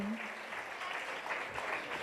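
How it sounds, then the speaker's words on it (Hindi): Applause for a troupe of dancing daughters-in-law after a dance in a Jain colony play in Indore, steady dense clapping filling the short stretch with a faint voice at the start. "एक बार जोरदार तालियां इन बहुओं के लिए"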